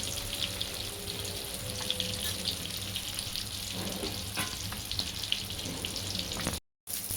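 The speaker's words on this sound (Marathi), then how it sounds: "अशा रीतीने दुसरी बाजू शेकून घेऊया." Bangda fish frying in oil in a pan gives a continuous soft crackle and sizzle at low volume, steady throughout, with a brief silent gap near the end.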